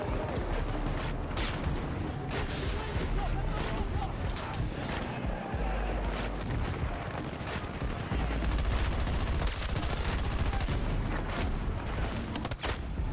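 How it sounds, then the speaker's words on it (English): Enemy gunfire in a video game, dense bursts of shots and rattling automatic fire running continuously over a busy, noisy battle mix. "are they shooting from behind me?"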